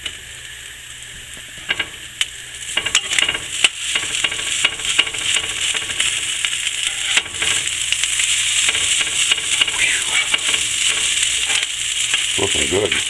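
Corned beef hash and slices of toast frying on a hot griddle, a steady close sizzle with scraping and clicking from a spatula, growing louder after the first few seconds.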